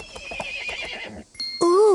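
A horse in the video game Barbie's Dreamhouse gives a loud, close whinny with a wavering, rising and falling pitch, preceded by soft chatter, game sounds and brief quiet.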